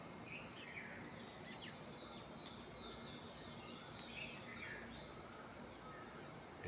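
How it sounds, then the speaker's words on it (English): Several different birds sing outdoors at a distance, with faint chirps and short trills rising over a steady background hiss. "here I hear the sounds of different birds"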